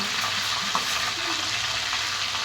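Food frying in a pan is gently stirred, a continuous close sizzle and crackle with soft scraping strokes throughout, no voices.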